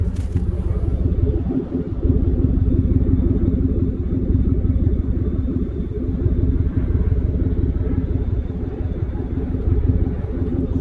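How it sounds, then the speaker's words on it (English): A deep, steady engine exhaust rumble idles close by with a continuous low throb and no break in level, and there is no talking over it. "Listen to that exhaust."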